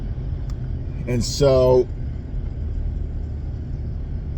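Steady low road rumble and engine drone from inside a moving car, continuous throughout, with a brief spoken phrase over it partway through.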